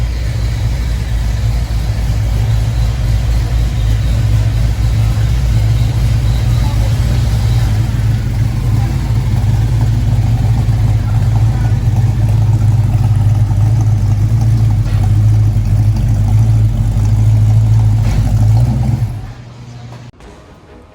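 Rebuilt 454 engine in a Mustang held at a steady, loud roar on a dynamometer for about nineteen seconds, with a low droning tone throughout, then cutting off abruptly near the end.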